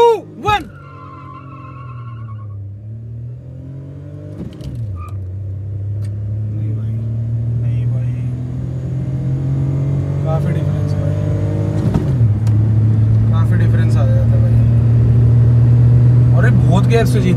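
Maruti S-Presso and Maruti Wagon-R in a drag race, engines droning loudly and rising through the gears with brief dips at shifts, heard from inside a car with the AC and fan off; steady close engine hum throughout.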